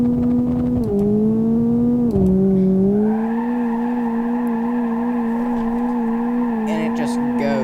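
Engine of a car in BeamNG.drive driving game hitting its nitrous boost, a loud sustained tonal roar whose pitch dips then steps up and holds steady, with some tire squeal and a voice speaking over it.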